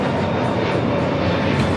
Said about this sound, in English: This is United Airlines 311 taking off to Denver on the A321neo.